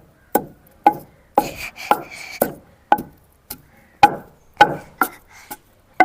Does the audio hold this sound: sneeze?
no